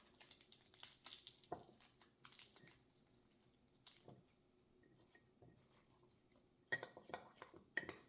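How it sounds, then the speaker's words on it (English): Two dried bay leaves snapped and crumbled by hand for pickling spice, giving faint, scattered crisp crackles and small clinks in short bursts against a quiet kitchen background. "you can just break up your bay leaves"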